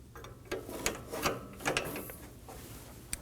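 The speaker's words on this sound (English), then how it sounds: "we're gonna use an 18mm socket to get the nut snug" Socket wrench ratcheting as it snugs an 18mm nut on a front sway bar link of a 2017-2024 Nissan Armada, a series of close, uneven clicking pulls with short pauses and no talking.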